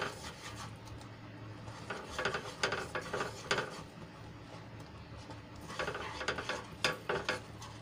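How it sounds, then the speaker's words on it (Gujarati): Millet flour is stirred into boiling water with a wooden rolling pin in a pot, making bursts of scraping and rubbing strokes at a steady nearby pace with quieter gaps between them. "લોટને આપણે સરસ રીતે મિક્સ કરી લઈશું"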